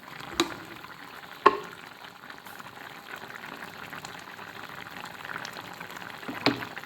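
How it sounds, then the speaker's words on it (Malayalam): Coconut oil poured into a simmering pink perch fish curry, with a soft steady bubbling simmer throughout and a few brief utensil knocks against the pot, close and fairly quiet. "ഇനി നമുക്ക് മീൻ കറിയിലേക്ക് കുറച്ച് വെളിച്ചെണ്ണ ഒഴിച്ചു കൊടുക്കാം"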